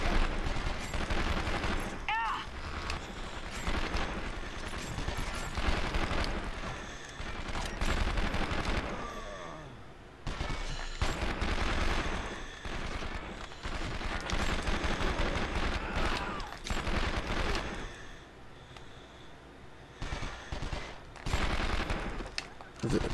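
Rapid bursts of automatic gunfire and scattered shots in the PlayStation 2 game 24: The Game, dense and fairly loud, recurring in clusters across the stretch with short lulls, mixed with game speech.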